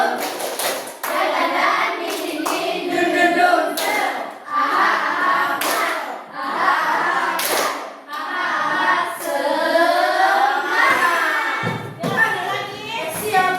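Guidance teachers stand and do a rhythmic 'tepuk semangat' group clap as an icebreaker, with sharp patterned bursts of claps repeating in sets, mixed with voices chanting along.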